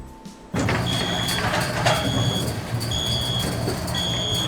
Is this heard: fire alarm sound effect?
yes